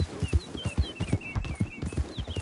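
Horse hooves clip-clop in a quick steady rhythm in the video game Red Dead Redemption 2, close and distinct, with faint chirping birds in the background.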